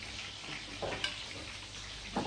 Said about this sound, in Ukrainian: Ну що, Петюшка, нормально вони смажать ці котлетки?